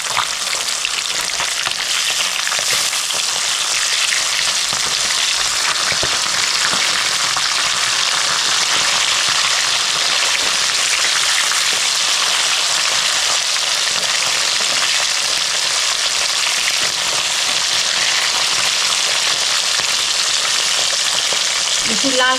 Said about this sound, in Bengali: আমি উল্টে দিচ্ছি মাছ।